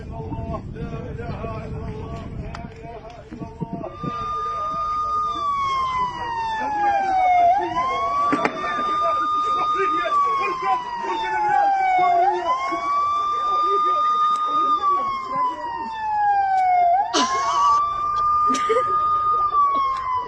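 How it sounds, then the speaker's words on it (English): Emergency vehicle sirens wail loudly in repeated rising and falling cycles, several overlapping sweeps after a rougher, noisier opening moment. "Those sirens have a magical effect on bodies"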